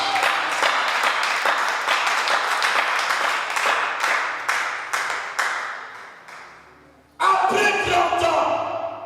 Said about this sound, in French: Est-ce que quelqu'un peut acclamer pour la gloire de Dieu?